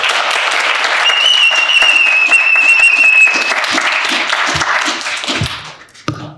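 Loud, dense audience applause at a Hotep Nation Weekend 2021 fireside chat, sustained and steady with a thin whistle running over it for a few seconds, then thinning out and fading near the end.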